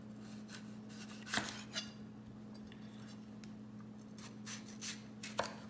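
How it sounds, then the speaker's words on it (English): A knife slices a red bell pepper between the white ribs on a board: scattered crisp cuts and light clicks, a few sharper, over a steady low hum. "And then I like to cut it like this, in between the white."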